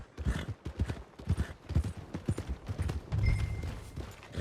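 A horse's hooves clip-clop at a steady walking pace up close, each footfall crisp and evenly spaced over a low ambient background, with no talking.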